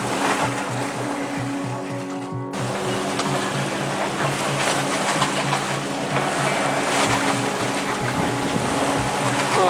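A sailboat's engine motoring at full throttle through ocean swell, a steady loud drone with rhythmic pulsing over constant water wash and hull noise.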